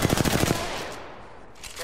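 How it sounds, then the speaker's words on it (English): Apex Legends gunfire, a rapid rhythmic burst of close automatic shots lasting about half a second, then a decaying tail and a faint return of noise. "Getting shot at."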